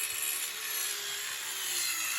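A DeWalt Atomic 20V compact cordless circular saw cutting a piece of wood molding at 45 degrees, a brief, hissing rasp of blade through wood, steady and moderately quiet, with no voices.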